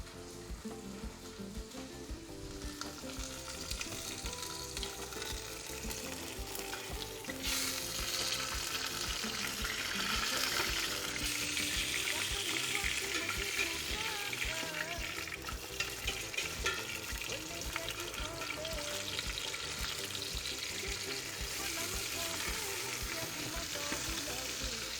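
Meat sizzles in a pan, giving a steady hiss that grows louder and denser after it is turned, and the crackle continues for the whole stretch with little speech over it.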